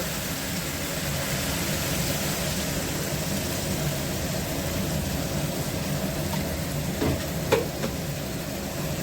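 Vegetables and spices frying together in a home kitchen pan give a steady, even sizzle with a low continuous rumble underneath and one brief clink near the end; no one speaks.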